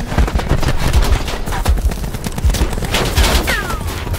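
Rapid gunfire fills a match of the video game Call of Duty: Black Ops 4. Bursts of shots crack in quick succession with sharp thumping impacts, loud and close, and one brief whistling sweep passes through late on.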